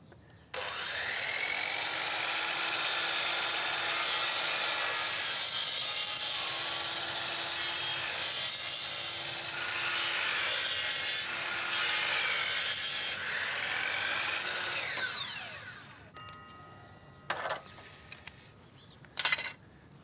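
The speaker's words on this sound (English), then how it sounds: "making sure that the saw travels all the way through nice and clean on our piece of timber" A saw rips through a piece of timber being cut for a wooden gate, a steady, close rasping cut that lasts about fifteen seconds before the blade clears and a few light clunks follow.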